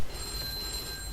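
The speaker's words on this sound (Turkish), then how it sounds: "Bu telefon çalıyor." Telephone ringing inside a video game: a steady, continuous electronic ring with sustained high tones over a background hum, fairly quiet and with no talk.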